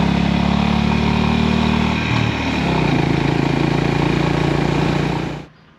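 A Honda GB350S single-cylinder motorcycle engine thrumming steadily while riding, loud and close, with a brief dip in revs around a gear change before it cuts off at the end.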